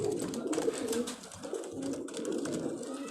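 Pigeons on a Karachi rooftop coo continuously in low, throaty murmurs, several birds blending into a soft steady hum at close range.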